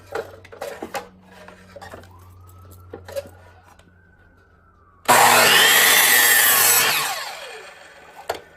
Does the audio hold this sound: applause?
no